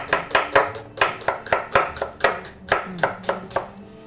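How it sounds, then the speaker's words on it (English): A knife chops onions into half moons on a cutting board, a dozen quick, crisp strokes in a steady rhythm, close and clear with no talking. "we're gonna cut the onions like a half moon"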